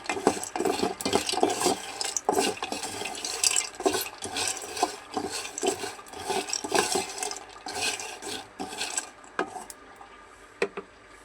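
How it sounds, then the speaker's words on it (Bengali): Peanuts roasting in a pan are stirred with a utensil, making a rhythmic rustling scrape that repeats steadily and then fades out near the end. "এই যে বিকেলে আমি এখন বাদাম বাজিয়ে দিতেছি"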